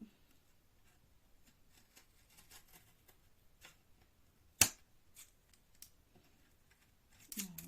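Small scissors snipping a thin strip of paper for a scrapbooking upcycled mini chest-of-drawers project, a few soft quiet cuts with one sharp snip standing out, close and alone.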